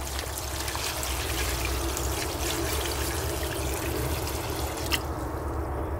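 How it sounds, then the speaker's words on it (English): Salt water trickles and pours steadily onto a dead e-bike lithium-polymer battery, a continuous close splashing stream with a low background hum and no talk. "So right, here goes, salt water in the battery."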